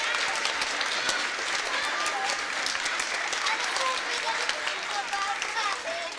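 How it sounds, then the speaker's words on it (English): A school audience at a 2025 first grade concert at Bates Elementary gives steady, moderately loud applause throughout, with scattered cheers and voices mixed into the clapping. "Let's give them a round of applause, please."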